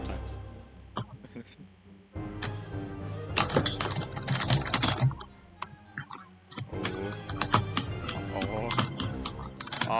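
Rapid, busy clattering of a computer keyboard being typed on, loud and close, in dense bursts with a short pause partway through, while someone talks over it now and then.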